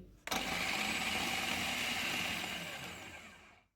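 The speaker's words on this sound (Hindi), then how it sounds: "चापर में पुदीना और धनिया डालेंगे। फ्राई किए हुए प्याज, सब्ज़ मिर्चें, इनको चॉप करेंगे।" An electric food chopper whirs steadily for about three seconds, chopping mint, coriander, fried onions and green chilies. The motor starts abruptly and runs close and continuous before winding down, with no talk.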